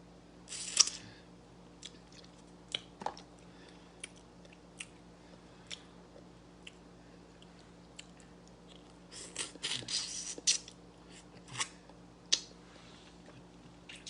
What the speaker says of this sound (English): I'm a professional fish head eater.